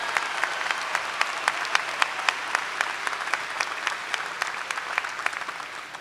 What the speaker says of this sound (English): A round of applause for these outstanding students that reflect Westfield State